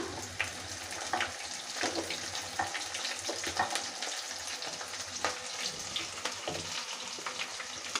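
Chopped onions frying in a pan for a village-style dried fish curry, giving a steady quiet sizzle with occasional light stirring clicks.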